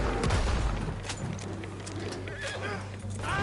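Gunfire in the video game Red Dead Redemption 2 sounds as several sharp shots among a horse's neighs and hoof clatter, with dense game ambience throughout.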